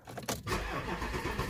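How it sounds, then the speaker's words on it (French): A diesel Audi A8 engine cranks and catches on the first try, a short starter whir followed by the motor settling into a low, steady idle, heard close up. "ça démarre au quart de tour la bagnole"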